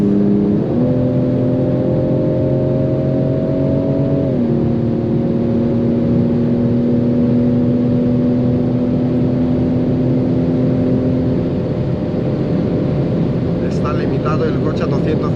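A 2021 BMW M4 Competition at full throttle, engine holding a loud steady high-speed drone with one shift early on, strong road and wind roar beneath, heard from inside the cabin.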